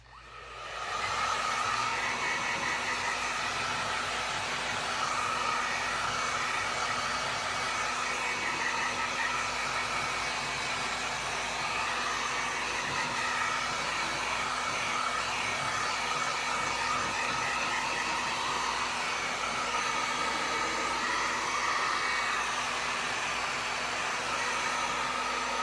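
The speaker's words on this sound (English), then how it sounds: "now I'm just gonna give it a quick dry with this hair dryer" A hair dryer runs continuously for a quick dry of a freshly painted Santa ornament, a steady close whooshing roar with no pauses and no talking.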